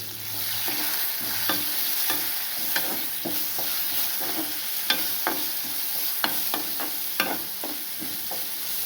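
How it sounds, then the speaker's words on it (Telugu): Vegetables with salt and curry leaves stir-frying in a pan, a continuous close sizzle broken by scattered ladle scrapes and taps, with no talking. "ఇవి కొంచెం ఫ్రై అవుతుంటాయి."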